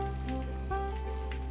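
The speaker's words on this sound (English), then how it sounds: "Fry the sausage over medium heat for about 5 minutes or until it develops a golden brown color on one side" Smoked sausage fries in melted butter in a pan over medium heat, giving off a quiet, steady sizzle with soft crackles over a low background hum.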